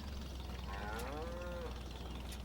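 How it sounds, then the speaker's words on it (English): A cow in the Farming Simulator 22 video game lets out a single drawn-out moo, sliding down in pitch, over a steady low hum of background game ambience. "Excuse me, Moo Moo Cow."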